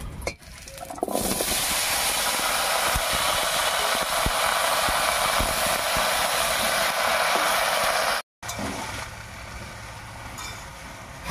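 Chopped vegetables for a vegetarian pui shak dish drop into hot oil tempered with slit green chillies, giving a loud, steady sizzle that holds for several seconds, breaks off briefly, then returns more quietly.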